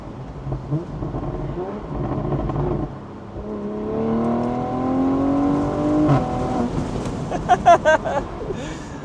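BMW G14 840i with a catback exhaust and 200-cell downpipe, Stage 2 tuned, rising through the revs in a steady pull, then a burst of sharp crackles and pops near the end, heard close with faint voice underneath.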